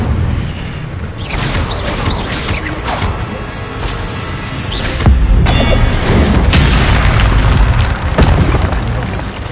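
Spell-casting blasts in the game Hogwarts Legacy on PS4, loud repeated booms and bursts over a dense, busy mix of combat effects, continuous and close, with no pauses between impacts.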